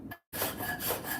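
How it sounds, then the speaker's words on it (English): A Shinto rasp files across wood in two dry, coarse rubbing strokes, close and distinct, separated by a short pause, with no voice. "There's another way you can do it too with a rasp. I'll show you."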